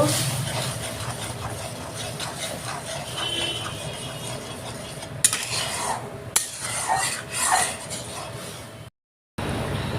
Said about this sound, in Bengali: সব দিয়ে মশলাটা কষিয়ে নিব